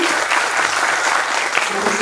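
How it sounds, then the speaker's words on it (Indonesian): Lively, loud applause from an audience at a cultural arts festival event in Indonesia, a dense, continuous wash of clapping lasting about two seconds. "Boleh tepuk tangan yang meriah sekali lagi."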